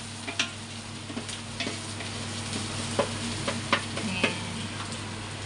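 Chicken for tinola browning in a hot pan, a steady close sizzle punctuated by light scraping ticks of stirring at irregular intervals, with a brief spoken word.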